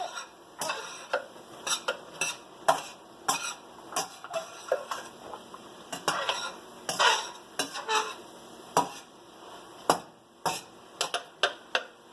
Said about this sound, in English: So here's the spoon. You just mix it.